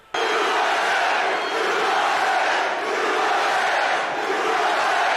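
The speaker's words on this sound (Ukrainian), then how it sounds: "Учасники мітингу аплодують" Crowd at a political rally in the United States cheers and applauds, a loud continuous wall of shouting and clapping that starts abruptly and stays sustained.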